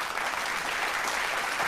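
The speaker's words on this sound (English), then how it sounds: "But clap it up again for him." Brief steady applause from a small group of people clapping, fairly close and alone without talk.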